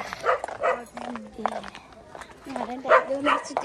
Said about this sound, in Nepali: कुकुर हामीले चाहिँ देखेर भुक्या हो